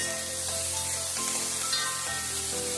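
Potatoes and beaten rice sizzle steadily in a hot pan for aval upma, with soft scraping as the mix is stirred, a continuous close frying hiss throughout.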